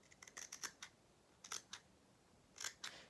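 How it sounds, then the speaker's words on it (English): Fabric scissors trim the collar of a doll shirt in a sewing project, quiet crisp snips in small clusters of three to five cuts with pauses between, and no one speaking. "So we just trim that collar down."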